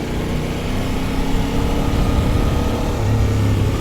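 A 2025 KOVE 800X Pro adventure motorcycle with a 95 HP engine runs loud and close, a dense continuous engine roar that swells slightly as it revs, with no talking.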